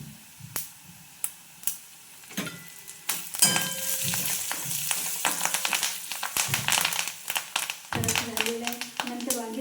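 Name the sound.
curry leaves frying in oil in a pan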